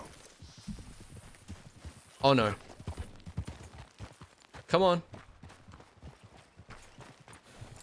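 Horse hooves from Red Dead Redemption 2 clip-clop steadily through the scene, with a couple of loud bursts standing out and a person talking throughout.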